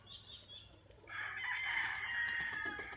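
A rooster crows loudly and nearby on a farm in Angayan Sur, Balungao, Pangasinan, with quieter hens clucking beforehand; a single sustained crow fills the latter half of the clip, with no talking.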